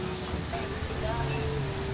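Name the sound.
heavy rain in Singapore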